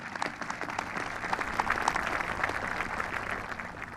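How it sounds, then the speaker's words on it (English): Audience applause at a Navy ceremony commissioning the submarine USS Delaware (SSN 791), a steady, dense wash of many hands clapping at moderate distance, holding evenly for a few seconds with no talk over it. "Let's give them all a nice round of applause."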